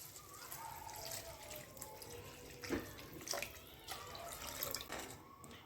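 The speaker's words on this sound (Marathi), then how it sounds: "आता यामध्ये पाणी ॲड करून घ्यायचे" Water pours and splashes into a cooking pot in a steady stream with a few louder gulps, close by and fairly quiet.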